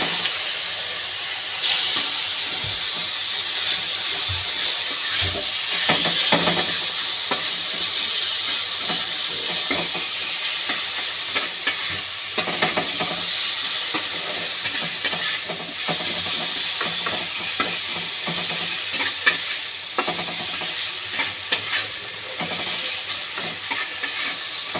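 Boiled snake gourd tipped into a hot frying pan with kala jeera, giving a loud continuous steamy hiss and sizzle with scattered stirring scrapes, close up and steady throughout, no voices.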